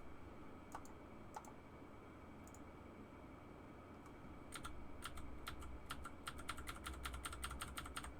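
Quiet keyboard typing: a few isolated key clicks at first, then a faster burst of rapid clicking toward the end over low background hum.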